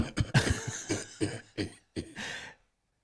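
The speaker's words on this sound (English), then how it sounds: "This is people coughing in the background." Several people coughing in a series of harsh, irregular bursts, fairly close, with brief gaps between coughs, ending in silence.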